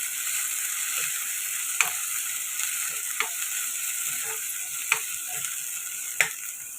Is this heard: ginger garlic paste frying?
yes